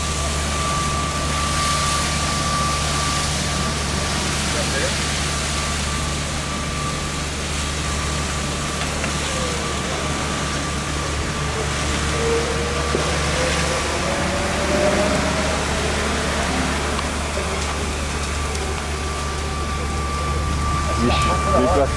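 A large fire burns at a recycling depot, giving a steady, loud roar with crackling throughout, joined by a low constant drone and a faint tonal whine; people talk briefly over it.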